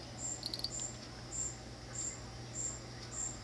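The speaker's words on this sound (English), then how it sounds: "I hear a cricket in here." A cricket chirps indoors in short, evenly spaced bursts, about every half second, faint against a quiet room hum with no talk.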